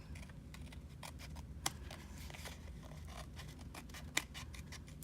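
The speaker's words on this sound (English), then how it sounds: "And then we're just gonna snip off our little excess." Scissors snip off excess paper while a handmade U-fold birthday card is trimmed, giving a run of quiet crisp cuts with two sharper louder snips standing out, close by with no talking.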